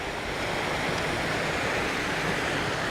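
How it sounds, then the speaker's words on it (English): Water rushes steadily through leaking canal lock gates at Caen Hill Locks, a dense, loud, continuous roar with no letup and no voices. "Water is constantly sluicing through. The locks are not completely watertight,"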